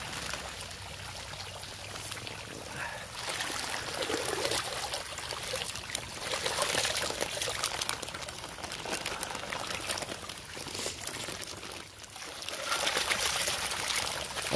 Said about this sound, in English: I got the water on right now. The well water.